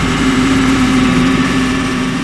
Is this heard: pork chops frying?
no